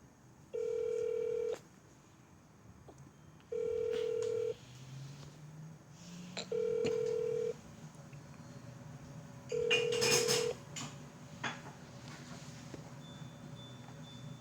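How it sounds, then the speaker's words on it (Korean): A telephone call being placed: a ringback tone sounds four times as regular one-second beeps about three seconds apart, with a faint hiss and a brief tone cluster near the fourth ring. "다시 다른 친구한테 전화를 걸어보도록 하죠."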